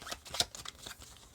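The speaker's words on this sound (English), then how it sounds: "Shuffle these." A deck of game cards for the board game Apex Theropod is shuffled, giving a short run of quick papery riffles and flicks, close and fairly quiet, with no talking.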